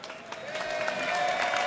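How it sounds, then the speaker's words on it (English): A crowd at the 2017 AFL draft cheers and applauds for a recently retired GWS Giants player, a broad wash of clapping and cheering that swells and stays loud throughout. "I think that's the 2nd biggest cheer of the night, Shane"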